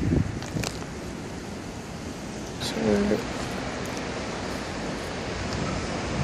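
Wind rushes in a steady, soft broadband wash through a tiny pocket park off St George's Road near Elephant and Castle, with a brief spoken word and a passing tonal sound partway through.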